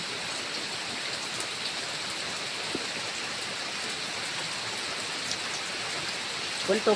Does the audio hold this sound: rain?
yes